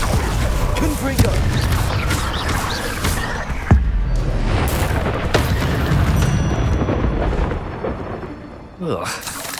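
Blasting-spell explosions in Hogwarts Legacy, several deep booms with rumbling low-end tails and sharp cracks, following one another across the fight while voices shout over them.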